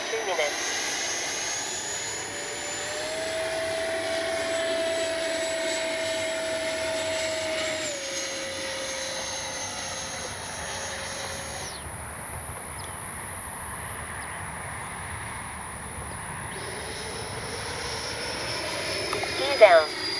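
An FMS 80mm F-86 Skyblazers electric ducted-fan RC jet whines steadily overhead, its high turbine-like tone shifting in pitch as it passes and banks, with a sharp thump near the end.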